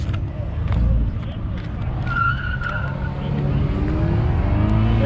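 A car launches hard on an autocross course, its engine roaring and tires scrubbing for several seconds at steady, loud volume, with people talking over it.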